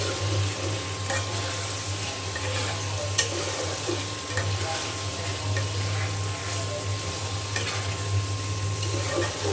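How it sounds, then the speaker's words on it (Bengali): Meat frying in oil in a pot while being stirred: a steady, close sizzle with occasional stirring scrapes over a faint constant hum, no talking. "আমি খুব ভালো করে যে ভাজা ভাজা করে কষিয়ে নিয়েছি"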